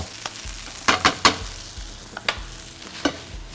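Thin rice noodles, fresh shrimp and bean sprouts stir-fry in oil in a wok, with a steady close sizzle broken by several sharp scraping clatters of the spatula, no talking.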